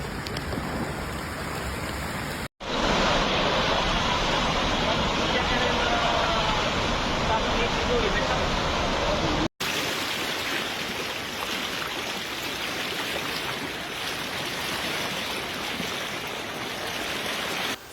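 Floodwater rushing through a swollen river in Italy during record flooding, a loud, unbroken roar of churning water that fills the whole stretch, with one abrupt cut partway through.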